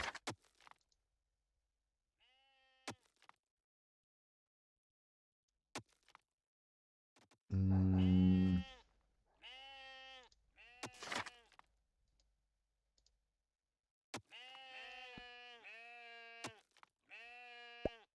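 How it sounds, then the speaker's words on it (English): Sheep in the farm-building video game Masterplan Tycoon bleat in several short, wavering calls. They ring out clearly against near silence, broken by a few sharp clicks. "All those sheeps."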